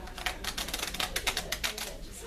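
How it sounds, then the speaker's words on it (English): Playing cards riffle-shuffled by a magician performing at a winery, a quick run of crisp flapping bursts at close range with a faint murmur of room voices behind. "I'm going to give it a nice shuffle."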